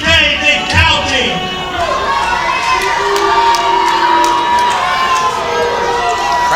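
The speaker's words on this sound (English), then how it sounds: "Crowd not happy." A wrestling crowd reacts with loud, sustained jeers and shouting from many voices at a live event, a continuous wall of displeased noise with some higher-pitched yells throughout.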